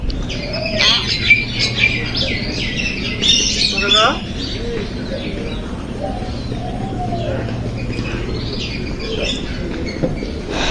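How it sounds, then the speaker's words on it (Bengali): A myna bird gives a run of varied whistles, squawks and chirps, loud and close, over a constant low rumble that continues after the calls thin out. "আজকে প্রথম এই ময়নার ডাকটা শুনলাম"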